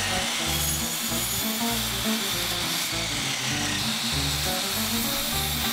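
Handheld router carving aged cedar fence slats into a sign, a loud, steady whine with a rhythmic low pulsing that runs unbroken throughout, with a shop fan droning underneath.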